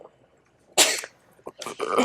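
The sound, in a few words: sneeze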